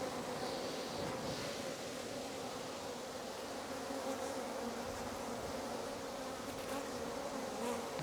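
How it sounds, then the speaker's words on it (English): A swarm of bees buzzes steadily and densely throughout, a continuous close hum with no voices, as a swarm is being cut down and collected. "If you start cutting too aggressive, you end up with bees on the ground."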